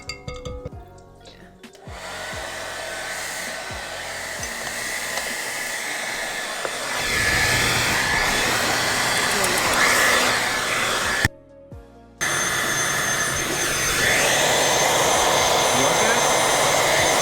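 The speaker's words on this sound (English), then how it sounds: "It's the sound of a blow dryer point blank against your ears." A hair dryer blows loudly and close up, its steady whooshing roar filling the sound, with a few brief pauses and shifts in pitch.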